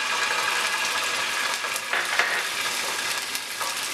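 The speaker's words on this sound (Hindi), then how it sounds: "फ्राइंग पैन के अंदर हम ऑयल डाल लेंगे। ऑयल के अंदर जाएगा अदरक का पेस्ट" Ginger paste frying in oil in a frying pan, a steady, dense sizzle that stays loud and close throughout with slight surges, no talking.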